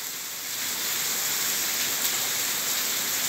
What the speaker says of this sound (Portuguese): Muita chuva hoje, pessoal, aqui em Ribeira do Pombal, Bahia, viu?